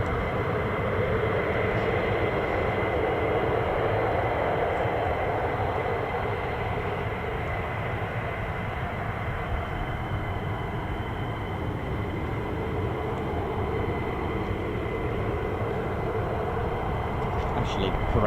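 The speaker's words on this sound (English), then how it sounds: "You can hear those compressor and turbines just rotating around, making that lovely like sound that gives you tinnitus." Pratt & Whitney F100-PW-229 jet engines on an F-15 spool at an air base, a steady, loud, broad roar with a whining turbine hum held level for the whole stretch, no breaks.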